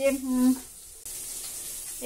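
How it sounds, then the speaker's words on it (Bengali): A voice speaks briefly, then a steady sizzling hiss of fish frying in a wok takes over. "দেখো এখন ভাজা হচ্ছে।"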